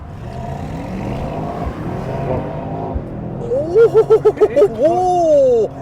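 A Range Rover Sport's 4-litre turbocharged V8 accelerates hard nearby, pulling up through several rapid gear changes before holding a rising, sustained note.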